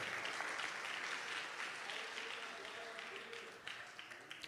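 Church congregation applauding during a worship service, a dense, steady wash of many hands clapping at moderate distance that gradually thins toward the end, with no one speaking over it.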